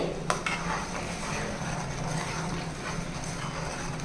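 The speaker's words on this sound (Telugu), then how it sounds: "ఇలా కలుపుతూ ఉండాలండి మధ్య మధ్యలోనే లేకపోతే అల్లం వెల్లుల్లి పేస్టు అడుగంటేస్తుంది" Ginger garlic paste frying in oil in a pan for mutton pickle, with a spoon stirring and scraping steadily over a low sizzle, a light clink near the start, no voices.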